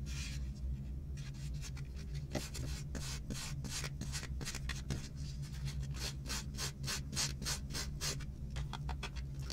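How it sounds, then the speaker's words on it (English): Fine grit sandpaper rubs across a rubber stamp in quick, rhythmic back-and-forth scratching strokes, close and steady, with a faint low hum underneath. "A little bit of fine grit sandpaper."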